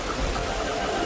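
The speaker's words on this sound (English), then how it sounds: "It starts to rain, and Peppa and George watch the drops" Rain falls in a Peppa Pig cartoon, a brief steady hiss of drops on a surface with no talk.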